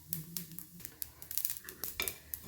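Chana dal roasting in a pan, with steady light sizzling and repeated clinks and scrapes of a spatula stirring against the metal, close and without voices.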